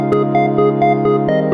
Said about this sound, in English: So you have the notes, which is actually an arpeggiator.